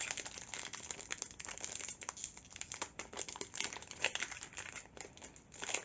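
Packaging of a Pomdrapi V card box crinkling and rustling steadily as it is opened, with close, irregular bursts of plastic crinkle and a few tearing sounds, no talking.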